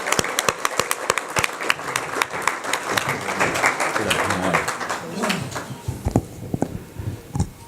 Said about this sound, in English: So with a big round of applause, let's welcome Right Honourable Lord Tariq Ahmed.